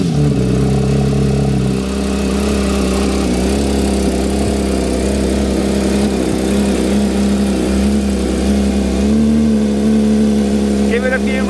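A car engine fires up and settles into a loud, steady high idle with a deep rumbling drone that changes pitch briefly partway through.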